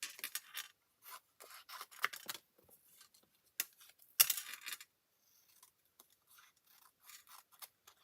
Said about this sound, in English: Bring in my paper snips.